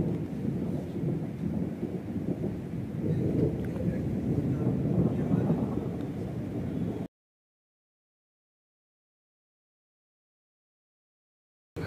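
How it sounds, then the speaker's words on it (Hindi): Deep thunder rumbles continuously with a rain-like hiss for several seconds at night in Dhanaulti, India, then cuts abruptly to silence. "बादल गरजने का साउंड सुनो, थंडरिंग।"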